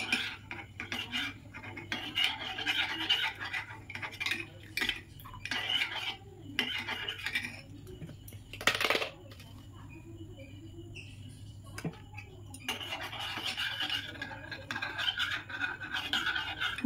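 A spoon scrapes and clinks against a bowl as custard powder is stirred into hot milk added a little at a time, with bursts of rapid close scraping separated by brief pauses.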